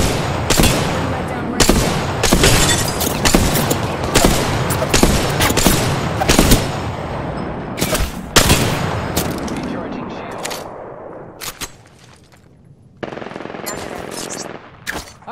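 Video game gunfire from a shooter involving a longbow: loud, dense bursts of rapid shots and sharp cracks that fill the first ten seconds, then thin out into sporadic single reports before one more burst near the end.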